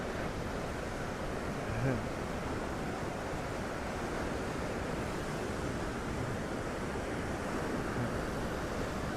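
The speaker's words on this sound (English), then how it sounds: "big set outside the pier again" A big set of ocean waves breaking outside the pier at the Gold Coast Spit, a dense continuous roar of surf and wind across the whole stretch, fairly loud, with no clear talk.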